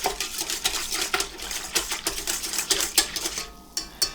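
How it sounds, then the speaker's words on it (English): Yeast and brown sugar whisked briskly in a bowl for Mennonite bread, with rapid rhythmic clinking and tapping of the whisk against the bowl, close by, that eases off near the end. "And then I'm just going to give that a quick whisk."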